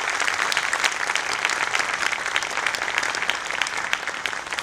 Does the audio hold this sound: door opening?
no